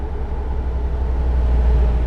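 A car passing by in the Euro Truck Simulator 2 driving game, a steady low engine and road rumble that holds loud throughout the short stretch and swells slightly toward the end, with no speech.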